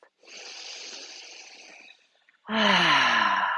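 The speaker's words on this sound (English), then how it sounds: "Take a deep breath." A slow, deep breath in during a chair yoga session, soft and airy for nearly two seconds, then after a pause a louder, fuller exhale with a slight voiced sigh.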